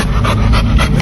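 A dog pants close by in quick, rhythmic breaths, loud and steady over about a second.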